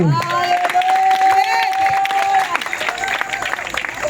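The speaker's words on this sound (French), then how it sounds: "je veux que vous acclamez pour vous-même" A crowd at an outdoor church praise gathering in Bakoussou cheers and applauds loudly, with a strong voice ringing out above the clapping and shouts before the noise eases slightly.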